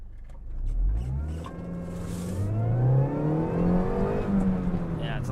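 An R53 Mini Cooper S accelerates hard, its engine note climbing steadily through the gears with a rising whine, loud and close throughout, with no voices over it.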